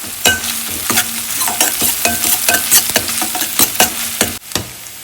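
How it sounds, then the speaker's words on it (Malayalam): Crushed ginger, garlic and green chili fry loudly in hot oil, a dense close sizzle with regular stirring scrapes throughout. "എണ്ണ ഒഴിച്ച് കൊടുത്തിട്ടുണ്ട് ഇനി ഇതാ ഇഞ്ചി വെളുത്തുള്ളി കുറച്ച് പച്ചമുളകും കൂടി ചതച്ചാണ്"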